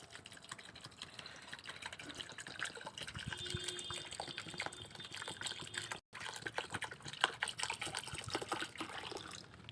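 Cold water is poured into a birds' water bowl outdoors in hot weather, a soft, uneven trickling and splashing that runs for several seconds, faint and close, with a brief break partway.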